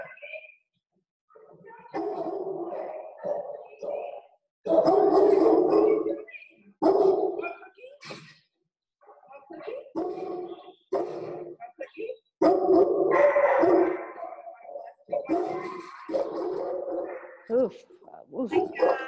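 A dog in a kennel barks loudly in repeated bursts at close range, with yips and pauses between, while people talk around it at times.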